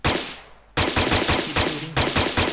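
Rapid automatic gunfire from a gun in an Unreal Engine 5 third-person multiplayer shooter, loud and close, with sharp bursts repeating about twice a second after a brief decaying tail at the start.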